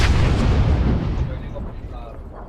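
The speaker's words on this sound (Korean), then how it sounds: "그 총소리 나는데." Gunfire and blasts in a PUBG squad match on the Erangel map, loud booming bursts at the start that fade into a rumbling tail, with a voice talking faintly in the background.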